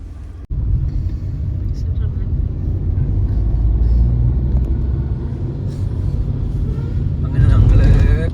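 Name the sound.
buses driving in through temple gate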